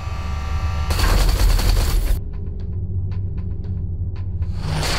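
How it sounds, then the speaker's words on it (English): Artillery fire in the space-combat video game Everspace 2: a loud burst of rumbling blasts, then scattered sharp impacts and pops over a low steady drone, with another surge at the end. "Watch out. The artillery."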